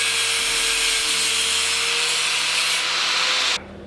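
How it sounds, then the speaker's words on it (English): A rusty metal tab is cut off a Golf GTI MK3 body shell, giving a steady, loud, harsh abrasive grinding that holds for about three and a half seconds, then cuts out abruptly. "let's cut this tab off because it's just in the way"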